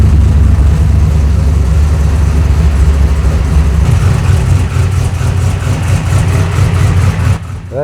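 A modified Volvo engine running on E85 with an added electric fuel pump roars loudly up close, a sustained heavy rumble that dips slightly in the last second, with no one talking.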